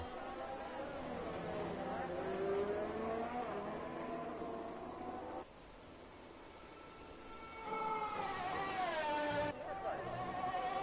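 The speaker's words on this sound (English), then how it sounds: "They do have that horrible engine noise, unfortunately." F3 race car engines in a racing video game at a Canada round: a thin, whining engine tone that rises and falls and shifts pitch, playing quietly under steady commentator talk.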